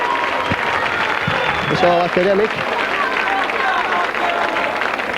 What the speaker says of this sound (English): The Leeds supporters having a little bit to cheer about.